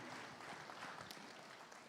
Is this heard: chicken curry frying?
no